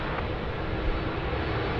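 Saab 340 turboprop airliner taking off at Sydney Airport, a loud broad steady engine roar filling the moment with no voices.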